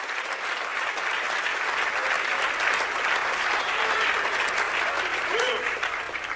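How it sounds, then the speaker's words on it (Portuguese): A church congregation claps together in sustained, dense applause that stays steady and fairly loud throughout, with faint voices mixed into the crowd noise. "Você consegue aplaudir ao Senhor pela sua palavra agora?"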